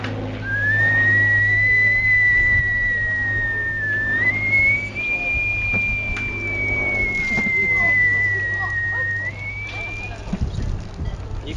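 A voice whistles a long, steady wind-like tone that wavers slightly and shifts pitch, imitating wind, over a low constant hum, lasting about ten seconds.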